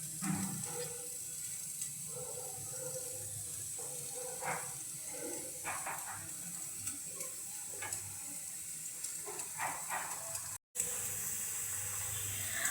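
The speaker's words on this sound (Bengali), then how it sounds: "জলটা ফুটে গেলে এর মধ্যে দিয়ে দেব পালং শাকগুলো" Spinach blanching in a pot of boiling water for palak paneer, a steady low bubbling and hiss with scattered soft clinks, faint and continuous throughout.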